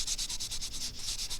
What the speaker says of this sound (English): So I'm hoping this sanding will get rid of that